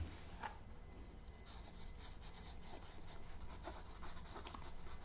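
A pen scratches across paper in a quiet indoor setting, a soft continuous rubbing with brief strokes, close and faint.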